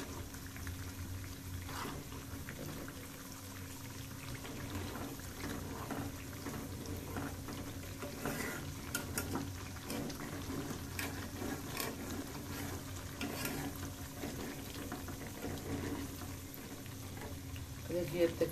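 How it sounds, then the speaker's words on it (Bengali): Milk cream being stirred again and again in a pan while ghee is made, giving a steady low bubbling sizzle with occasional faint scraping, fairly quiet and continuous throughout. "আমি কিন্তু নাড়তে আছি বারবার।"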